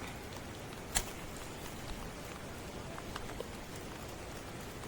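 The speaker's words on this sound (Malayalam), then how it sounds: "ഇവിടെ ചെറിയ രീതിയിൽ മഴയും ഉണ്ട്" Soft, steady patter of light rain, fairly faint and even throughout, with one brief tap near the start.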